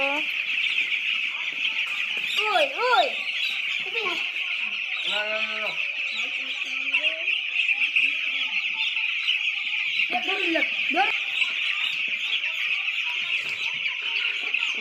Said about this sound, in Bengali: এই দেখো মুরগি আমাদের, ছোট্ট ছোট্ট মুরগি